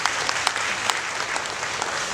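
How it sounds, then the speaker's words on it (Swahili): Audience applause at a Yanga club stadium project launch event, steady clapping from a crowd filling the whole stretch with sharp individual claps standing out, fairly close and continuous. "Kwa hiyo tuwaongezee makofi mengi sana kwa utayari huo."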